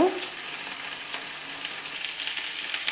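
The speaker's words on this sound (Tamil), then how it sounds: "நல்லா வதக்கி விட்டுக்கோங்க அந்த ஆ எண்ணெயில் வந்து எல்லா காயுமே படணுங்க வேகணும்" Vegetables for aviyal sauté in hot oil, a steady near frying sizzle with stirring, opening with a brief sharper clatter.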